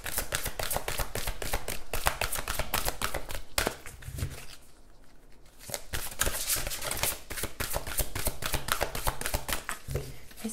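A deck of oracle cards is shuffled by hand, producing quick, rhythmic bursts of riffling and slapping cards. There is a short lull in the middle, then brisk shuffling resumes, close and clear.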